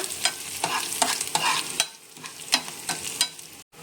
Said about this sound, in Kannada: ಇದು ಒಗ್ಗರಣೆನ ಚೆನ್ನಾಗಿ ಫ್ರೈ ಮಾಡ್ಕೊಳ್ಳೋಣ